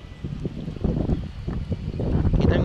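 Gusty wind buffets the microphone on a lakeshore during shore fishing, low rumbling bursts that strengthen toward the end, with no speech.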